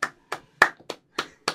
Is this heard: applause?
yes